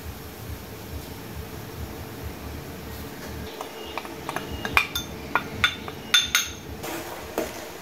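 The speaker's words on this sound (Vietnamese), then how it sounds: "Mình khuấy cho bột rau câu với đường nó tan hết trong nước dừa mọi người" A spoon stirring agar powder and sugar into boiling coconut water in a pot, a steady bubbling hiss with light metallic clinks and taps growing more frequent toward the end.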